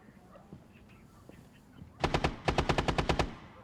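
Quiet background, then two rapid bursts of automatic gunfire ring out close by in a video game shootout, sharp and rattling.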